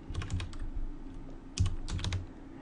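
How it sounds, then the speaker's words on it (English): Quick bursts of computer keyboard typing as an address is entered, clustered keystrokes near the mic with a short pause midway before another rapid flurry. "All right, let's type that in right quick."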